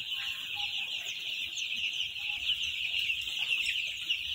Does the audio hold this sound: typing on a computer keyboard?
no